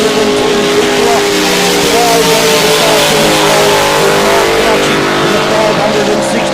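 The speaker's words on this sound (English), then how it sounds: "have a look at Ryan Constable as he fires up the front chute" A twin-turbocharged 560 cubic inch race car engine accelerates down the front straight of a speedway, a loud sustained rising roar with harmonic whine, heard under a race commentator's talk.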